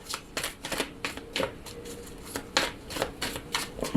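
Tarot and oracle cards being shuffled and drawn, a string of close, crisp riffles and snapping flicks in uneven bursts, with no voices.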